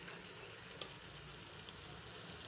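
Black chickpeas frying in spice masala, a soft, steady sizzle throughout with a faint clink near the start.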